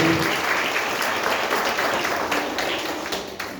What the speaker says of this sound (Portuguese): Você pode aplaudir Jesus sentado no seu lugar.